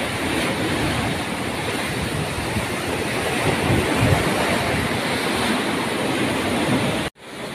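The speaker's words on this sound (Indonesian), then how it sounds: "Ombaknya besar sekali." Large ocean waves crash and roar continuously at Uluwatu beach beneath cliffs, a loud wash of surf mixed with wind buffeting the microphone, cut off abruptly near the end.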